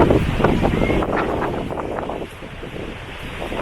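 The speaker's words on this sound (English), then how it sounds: "this is the weather that kills all of our plants because we've got this wind coming in" Strong stormy wind gusting along the coast at Singaraja, Bali, a steady broadband roar with buffeting against the microphone and a possible wash of surf beneath, loud and continuous throughout.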